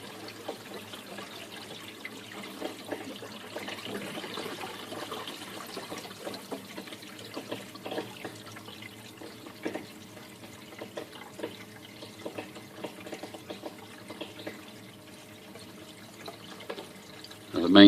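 Reef aquarium main drain gurgles quietly with trickling water and the odd bubble, a low continuous wash with scattered small pops throughout.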